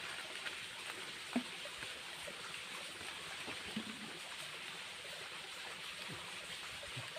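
A stream flows as a faint, steady wash of water that carries on evenly throughout, with small ripples and no voices.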